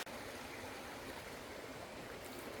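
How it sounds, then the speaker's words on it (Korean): Seonnyeo waterfall at Daedunsan in Nonsan, South Korea, rushes in a steady, dense wash of flowing water, close and continuous with no other sounds. "이곳이 선녀폭포고요"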